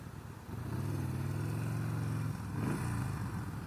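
A 2017 Yamaha SCR 950 motorcycle engine on a ride, a steady low throbbing drone held close and loud for a couple of seconds, then briefly dipping and surging again as the throttle shifts, with no talking.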